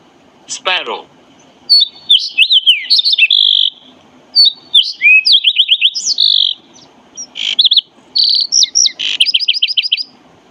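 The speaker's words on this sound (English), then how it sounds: "Sparrow." A sparrow chirps and trills in quick, bright phrases of rising and falling whistled notes, heard up close in short bursts separated by brief gaps.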